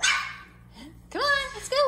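Four-week-old puppies let out a short run of high, whining yips and barks, close and fairly loud, after a quieter opening with a voice nearby.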